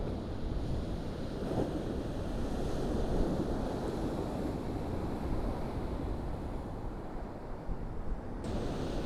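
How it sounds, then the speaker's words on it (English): Choppy sea waves wash steadily onto a pebble beach at Winchelsea on a breezy day, a continuous rushing surf with gusty wind buffeting the microphone throughout. "And there's the sea."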